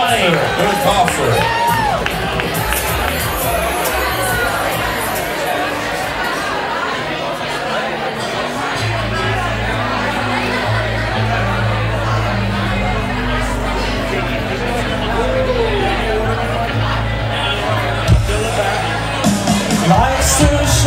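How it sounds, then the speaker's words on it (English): A crowd at a paintball karaoke event cheers and chatters after a song, a busy babble of whoops and shouts with voices throughout and a low steady hum underneath. "Big round of applause for Jake, everybody!"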